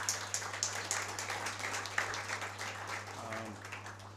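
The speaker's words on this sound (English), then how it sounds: "you need to give yourselves a round of applause" Faint, scattered clapping from an audience of water operators at a St. Vincent milestone event, thin and distant under a steady electrical hum, with a brief voice near the end.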